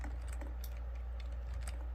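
Computer keyboard being typed on that is acting up strangely, a steady patter of light key clicks with a few sharper taps over a constant low hum.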